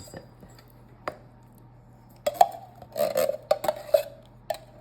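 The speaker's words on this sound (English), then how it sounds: "We're gonna take a can of blueberry pie filling and we're going to fold it into this cake mixture" A spoon folding canned blueberry pie filling into pound cake batter in a bowl, giving wet squelches and clinks against the bowl in uneven bursts after a quiet start, close, with no voices.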